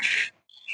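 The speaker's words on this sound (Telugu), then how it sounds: "పిట్టలు చూసారు ఎట్లా అరుస్తున్నాయో" Birds call in a home garden of mango, guava and sapota trees, giving a brief burst of bright, high chirping, a short pause, then more thin chirps, fairly close.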